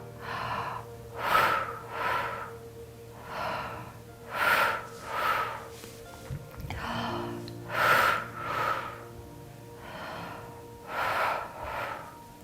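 Forceful breathing during a lying-down semi-bridge core compression exercise, with about eight pairs of strong, rhythmic exhaled breaths at steady intervals over a low hum, each burst close and fairly loud.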